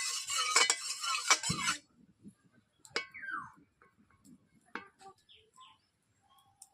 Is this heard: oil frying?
yes